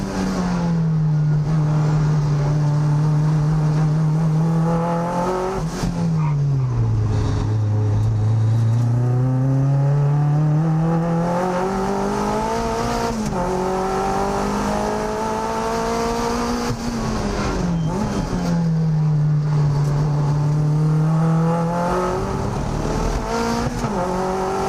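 A Mazda MX-5 race car on an out lap around a track, heard from onboard as a loud continuous engine note that rises and falls through gear changes and throttle lifts, with faint tyre noise.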